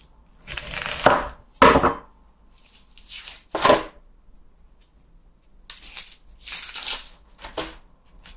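Knife dicing an onion on a cutting board, heard as short bursts of crisp chopping strokes in two clusters separated by a pause, close and fairly loud with no talking.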